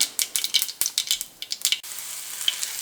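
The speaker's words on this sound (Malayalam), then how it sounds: "കടുക് പൊട്ടുന്നുണ്ട് കേട്ടോ." Mustard seeds crackling and popping in hot oil for Kerala lemon pickle, a quick run of sharp, close pops over a steady sizzle that thins out toward the end.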